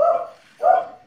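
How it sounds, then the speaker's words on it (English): Dogs barking indoors, two short loud barks in quick succession about half a second apart, close by and alone. "excuse my dogs, they're barking."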